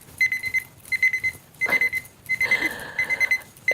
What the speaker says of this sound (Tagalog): Number 5, dumbbell alarm clock.